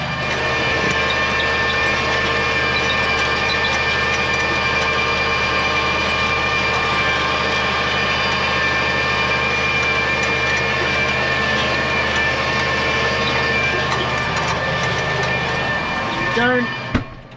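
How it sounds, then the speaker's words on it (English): A tractor engine drones steadily under load while driving equipment through the PTO, a constant mechanical hum with a whining tone that runs unbroken for the whole stretch. "you can hear the tractor working"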